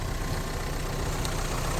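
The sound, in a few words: Volkswagen Crafter refrigerator van engine idling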